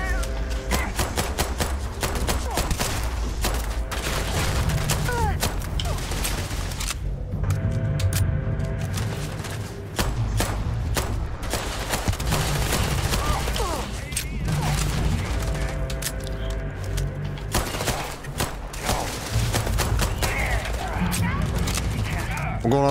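Gunfire in a Starfield gunfight, rapid volleys of shots and bursts of fire rattling almost continuously, with someone talking over them.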